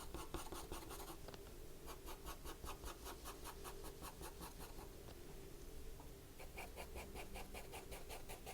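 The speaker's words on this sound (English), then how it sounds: "So this is an H pencil I'm using" An H pencil scratches lightly across paper while shading an apple drawing, producing a steady run of close, rhythmic strokes with a brief pause near the middle; no voices.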